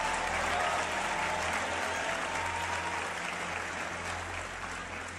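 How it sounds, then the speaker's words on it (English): A large audience at a Les Brown motivational talk breaks into tremendous applause, a thick, steady roar of many clapping hands sustained at an even level from start to finish. "Let's give him another tremendous round of applause."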